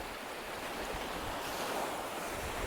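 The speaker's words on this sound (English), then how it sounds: "That water's starting to surround us here," Incoming tide waves washing over the rocky shore of a small island at Seaton Sluice, a steady close surf wash with wind buffeting the microphone.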